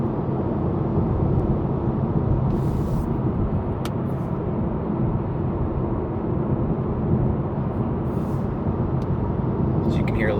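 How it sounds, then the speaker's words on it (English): Road noise inside a 2023 Honda Accord Sport on a rougher road stretch is a constant dense low roar and rumble heard throughout, with faint brief taps over it. "Now this is a little bit rougher road here."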